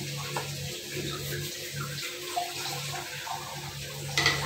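Water pours into a pan of sugar for homemade ash gourd halwa, a steady close trickle and splash without a break, with no talk.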